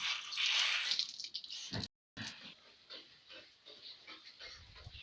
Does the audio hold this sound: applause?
no